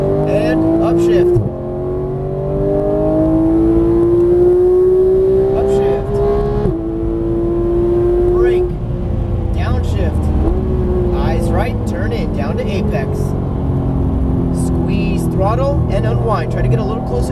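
Porsche GT3 engine pulls hard on a race track, its rising tone climbing through the revs and dropping at each upshift, loud and continuous with tire and wind noise, while a driving coach talks over it.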